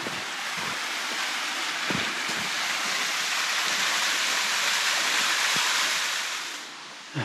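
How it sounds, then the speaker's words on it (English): Steady broadband rush of flowing creek water at a creek crossing in the Blue Mountains, loud and continuous, with occasional low thumps and a slight dip near the end. "Beautiful little creek crossing here."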